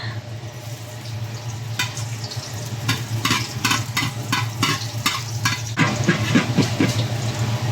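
Hot cooking oil sizzles steadily in a pan while a utensil scrapes and stirs in rhythmic strokes, close and clear, as aromatics are sautéed for salmon-head sinigang.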